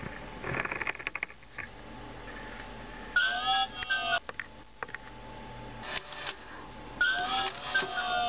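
A Tiger Electronics Mio Pup robot dog toy, with one damaged ear joint, walks with bursts of whirring motor and clicking mechanical steps, stopping and starting in short runs, close and moderately loud.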